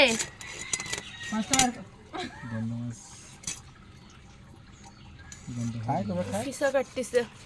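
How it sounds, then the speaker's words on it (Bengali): A large pond-raised pangas fish is cut up with a knife, sharp clacks and metallic scrapes coming in bursts close by, with people talking over and between the cuts. "এই যে আমাদের মাছ কাটা হচ্ছে"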